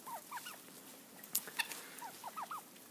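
Golden laced Wyandotte hens on a small homestead give faint, soft clucks and short chirping calls in scattered bursts, heard quietly from a short distance.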